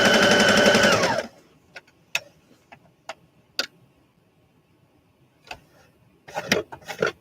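A vintage sewing machine runs a straight stitch in a loud, rapid burst for about a second, followed by sparse ticks and light clicks as it is handled, then a short rattling burst near the end.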